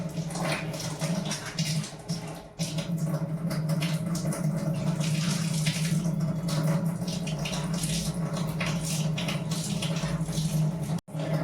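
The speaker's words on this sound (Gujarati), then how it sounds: "પાણી આવ્યું છે." Tap water runs steadily in a home kitchen, a continuous broadband rush with a low hum underneath, unbroken for most of the stretch apart from a couple of brief dips.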